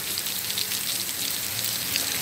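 Heavy rain from Tropical Storm Michael pours down in a dense, continuous hiss of drops striking surfaces, loud and unbroken with no voices.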